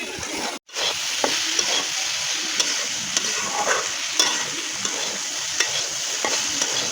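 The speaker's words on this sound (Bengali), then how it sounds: "এখন দিয়ে দিব কাটতে রাখা ভেন্ডিগুলো, দিয়ে ভালো করে লাইড়ে চাইড়ে নিব।" Cut okra being stir-fried with shrimp in a pan, a steady close sizzle broken by repeated scraping stirs and light clinks of the spatula.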